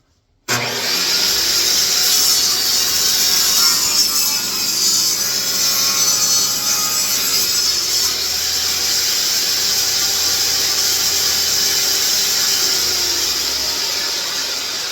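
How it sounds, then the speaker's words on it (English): A table saw spins up and cuts wood with a loud, steady high-pitched whine over a low motor hum for the whole stretch, close and with no talking. "With table saws, they're notorious for shooting things back at you."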